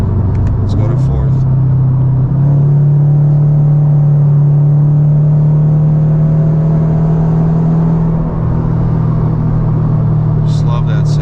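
Subaru BRZ engine fitted with a header, a deep steady rumble held loud and near as the car drives in manual, with the pitch rising slightly through a rev; occasional faint clicks are heard.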